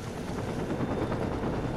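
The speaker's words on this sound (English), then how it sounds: "Yeah, helicopters." Helicopters in the video game Saints Row 2, a steady dense rotor roar with gunfire-like rumble mixed in, loud and continuous for a short stretch.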